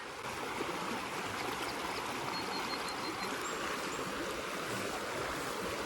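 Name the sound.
creek water flowing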